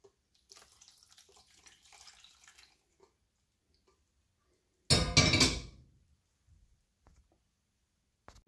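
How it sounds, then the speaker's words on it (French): Cold water from a tap pours briefly into a sieve of cooked black beans, a loud splashing burst lasting about a second, followed by faint clinks and scrapes in a quiet kitchen. "je rajoute un petit peu d'eau pour récupérer vraiment rien que la pulpe"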